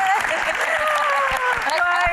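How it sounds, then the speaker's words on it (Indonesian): Audience applause at a Q&A session, steady clapping from a crowd throughout, partly under a voice speaking over it. "Kayaknya kita harus kasih tepuk tangan yang lebih meriah lagi."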